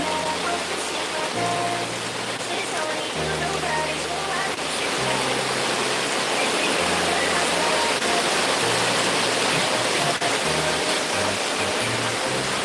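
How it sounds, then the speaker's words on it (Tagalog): Heavy rain pours down in a steady, loud, continuous roar, with low tonal sounds from music or a voice faintly underneath. "Ang lakas ng ulan, guys. Naririnig mo, sis? Ang lakas ng ulan."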